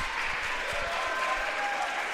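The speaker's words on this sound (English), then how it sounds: "The game stops, both teams are cheering you on to take the shot." Crowd at a unified basketball game between Cicero-North Syracuse and ESM, with both teams cheering and clapping for a player to take his shot. Steady, fairly loud applause and cheering fill the whole moment.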